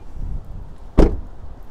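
A car door closes on an LDV eT60 electric ute, giving a single solid thud that is close and brief against quiet surroundings.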